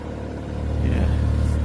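An Audi S3 8L with a 1.8L BAM engine and Milltek exhaust revs up, its deep rumble swelling louder over a short burst, heard close.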